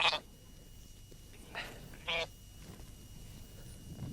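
A ram bleats in a few short, moderately close calls spaced across a quiet background.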